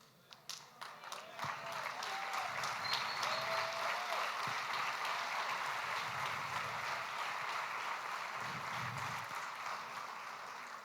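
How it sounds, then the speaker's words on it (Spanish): A church congregation breaks into applause during a sermon, clapping starting with a few scattered claps then swelling into a sustained, moderately distant roar of hands that slowly tapers off. "Entiendo que estás aplaudiendo porque estás de acuerdo con esta afirmación"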